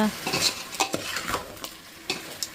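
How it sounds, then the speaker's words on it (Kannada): Country chicken mixed with turmeric and rock salt is stirred in hot oil, a soft sizzle under repeated scraping and clinking strokes of a utensil against the pan, fairly quiet and close. "ಹತ್ತು ನಿಮಿಷ ಚೆನ್ನಾಗಿ ಫ್ರೈ ಮಾಡ್ಕೊಳ್ಳೋಣ ಆಯಿಲಲ್ಲಿ ಚೆನ್ನಾಗಿ ಫ್ರೈ ಆದರೆ ತುಂಬ ಟೇಸ್ಟಿಯಾಗಿರುತ್ತೆ"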